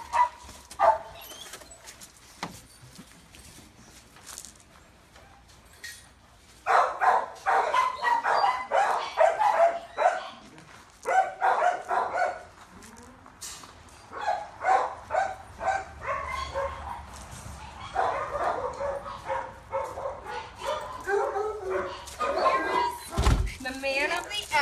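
Dogs barking in short bursts while playing, with thumps and scuffles nearby and people talking over the commotion.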